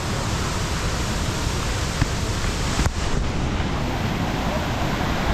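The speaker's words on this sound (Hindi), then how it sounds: "तो ये वाला जो पानी आ रहा है बहुत ही ज़्यादा" A mountain stream or waterfall on the trek from Sagar village to Rudranath rushes in a dense, constant roar, loud and close, with only a faint thump of movement partway through.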